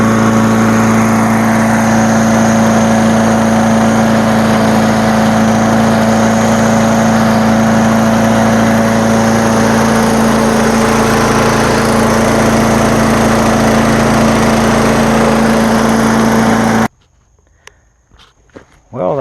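Push lawn mower engine running steadily at close range, a loud constant drone that cuts off abruptly near the end, leaving near silence with a few faint knocks.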